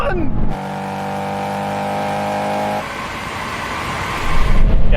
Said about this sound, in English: Come on, VTEC. Oh, everyone's gone now. Come on, rev it out!